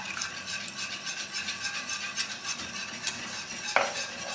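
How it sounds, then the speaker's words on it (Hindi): A spoon stirs flour and milk together into a white sauce for pasta, giving soft continuous scraping and light clinks against the pot, close and alone with no talk. "इसको अच्छी तरह हिलाएंगे।"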